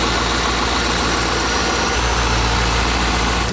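A C5 Corvette's engine idles smoothly after a new idler pulley was fitted, giving a steady low rumble with no squeal, loud and close, continuous and alone.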